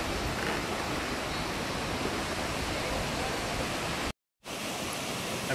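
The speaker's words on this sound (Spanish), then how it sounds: "Ahí podemos ver la cascada de los prismas." Los Prismas waterfall at Huasca de Ocampo pours in a steady, dense broadband roar that fills the whole clip, close and loud, with only a brief dropout near the end and no voices.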